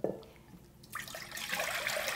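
Water poured into a pot for Korean taro soup; after a short knock and a quiet pause, a rising splashing gush of running water fills the rest, close and continuous.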